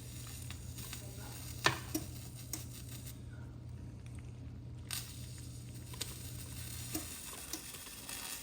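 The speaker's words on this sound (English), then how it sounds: "I'm gonna have to use a spoon because now the macaroni is hot." Hot macaroni stirred with a spoon in a pan, with soft scraping and light sizzling over a steady low hum and a few sharp clicks of the spoon.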